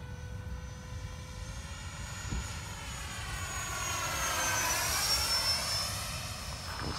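A Freewing F-15 90mm RC model jet flies past after takeoff, its ducted-fan whine steady and loud, rising in pitch and intensity as it sweeps closer mid-clip, then easing slightly while staying clearly audible with no talking.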